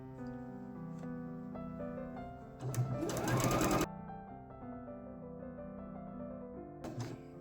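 A sewing machine runs steadily at a slow, even pace, stitching bias binding around a curved fabric edge, with a brief louder burst of rustling fabric or motor mid-way and a short flare near the end.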